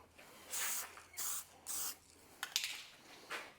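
Spray paint applied in a generous first coat, heard as four or five short hissing bursts of roughly half a second each, evenly spaced with pauses between, fairly close and with no voices.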